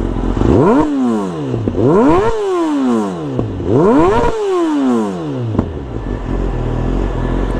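A tuned Kawasaki ZX-10R sport motorcycle revs hard three times through its exhaust, each sharp rise falling back to a throaty idle, then settles into a loud, uneven rumble.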